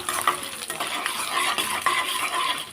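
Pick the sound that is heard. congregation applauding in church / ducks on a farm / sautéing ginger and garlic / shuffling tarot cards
sautéing ginger and garlic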